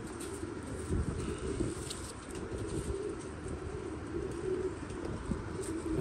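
Pigeons cooing faintly on a rooftop loft amid steady outdoor background noise, soft repeated coos spread across the stretch with no talking.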